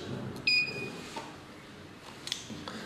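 A WEGA FS-600 fiber fusion splicer powers on with a short, bright electronic beep, followed by faint clicks against a quiet background hiss.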